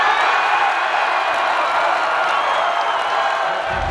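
A college student section chanting in the stands at a Buffalo football game, a steady roar of many voices that stays loud and even throughout, heard from within the crowd.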